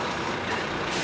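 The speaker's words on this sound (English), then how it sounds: "That's the sound of all of the ingredients being mixed together inside the spinning drum." A concrete mixing lorry arrives with its drum spinning, giving a steady, loud broadband rumble and grinding roar that fills the short stretch without a break.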